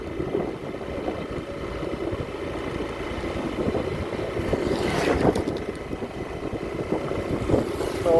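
Wind blows outdoors in Tanza and buffets the microphone as a steady, rushing roar, growing slightly louder toward the end.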